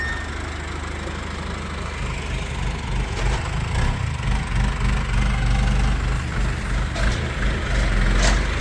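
A farm tractor engine idles on a sheep farm, a steady low rumble that holds throughout and builds slightly louder, with no talk.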